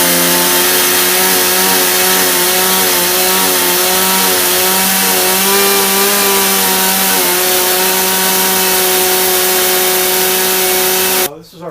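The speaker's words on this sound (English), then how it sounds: "Let's start our chainsaw up and we'll get this moving." A chainsaw milling lumber runs steadily at high revs, loud and close, its pitch wavering slightly before it cuts off abruptly at the end.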